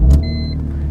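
A BMW E46 M3 with the SMG automated manual gearbox, untuned, pulling away: a low, steady engine rumble close by, with a brief thin whine near the start.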